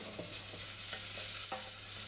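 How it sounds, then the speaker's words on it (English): Risotto rice grains toasting in olive oil in a pan, a steady soft sizzle with faint scraping stirs coming through at intervals, close by and with no talking. "Really trying to coat every sort of grain in there with that sort of olive oil."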